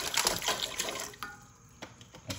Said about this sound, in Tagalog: We'll put water on the cooking pan.